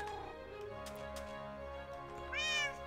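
A cat meows in the Minecraft video game, a short tonal meow near the end over a quiet background with soft ticking, no voices.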